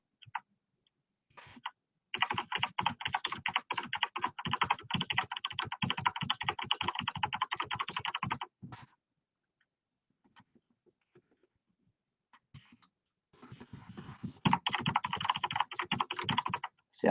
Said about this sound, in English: See how fast I can type them numbers in there?